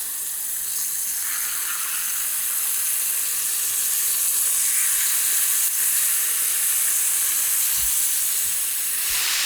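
Steak au poivre sizzles steadily in a pan, a close, continuous hiss and crackle that holds the whole time as the pan is shifted, with a couple of low thuds near the end.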